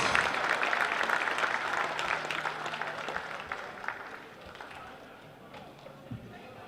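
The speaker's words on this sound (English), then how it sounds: "Big round of applause." A crowd in a basketball arena applauds the runners-up team at a national secondary schools championship, the clapping loud at first and then thinning out and fading over several seconds.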